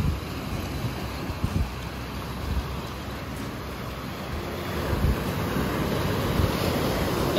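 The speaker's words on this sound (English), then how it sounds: "Look at this beach, y'all." Ocean surf rolls onto the beach at a Punta Cana resort in the Dominican Republic, a steady wash of waves mixed with gusty wind buffeting the microphone, swelling louder toward the end.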